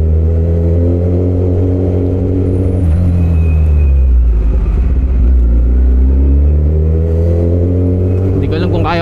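A 1000cc sports motorcycle engine runs loud and close, its revs rising and falling with a deep rumbling drone throughout, while a voice talks over it.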